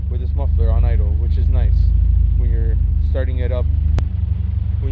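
A Honda engine, in an Acura EL, idles through a K-Tuned exhaust muffler with a steady, deep low rumble that runs throughout while a person talks over it.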